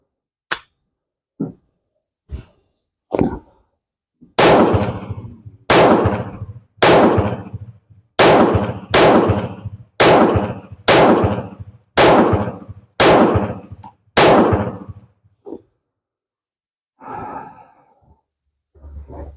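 A Beretta pistol fires surplus .32 reloaded rounds outdoors, with a few spaced shots followed by a steady string of about a dozen sharp, loud reports that ring out briefly, then a couple of quieter handling sounds.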